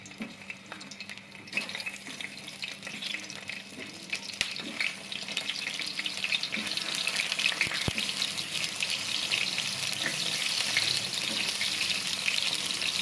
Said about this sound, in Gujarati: જ્યારે એવું લાગે કે થોડું એવું તેલ ગરમ થયું છે તો આપણે ધીમે કરીને ટામેટાં અંદર એડ કરી દઈશું.